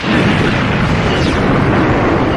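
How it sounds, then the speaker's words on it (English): Falling AT-AT walkers explode in a Star Wars read-along effect, a loud, dense, rumbling blast that fills the whole stretch without a break and with no voices. "The walkers fell over and exploded."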